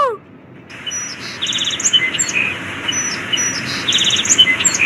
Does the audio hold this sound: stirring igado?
no